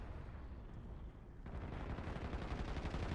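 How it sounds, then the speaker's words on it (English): Dense, continuous gunfire in Call of Duty: Warzone, loud and sustained, swelling heavier about halfway through with rapid overlapping shots. "I chased the gunfire"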